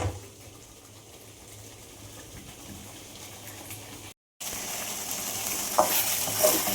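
Medicinal Tamil kuzhambu sautéing in oil in a pan, a steady low sizzle with faint stirring that pauses briefly, then comes back brighter and louder with sharper crackles.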